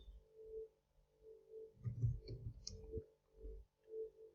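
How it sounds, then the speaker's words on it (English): Keys on a computer keyboard tapped out a short word in a word processor, giving faint, scattered clicks over a steady low electrical hum. "So right now I'm going to type something."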